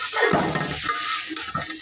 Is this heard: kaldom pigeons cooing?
no